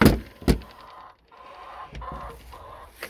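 Easter Egger and Rhode Island Red hens in a small backyard coop bought from Tractor Supply cluck in short, close bursts, with a couple of sharp knocks at the start.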